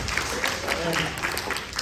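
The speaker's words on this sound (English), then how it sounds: "let's give her a round of applause too" Applause for a guest assistant at an elementary school science show, a short burst of clapping from an audience of children and adults, with voices mixed in.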